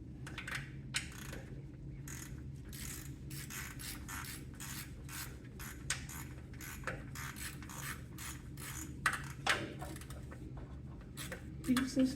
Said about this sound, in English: Your ratchet was already set up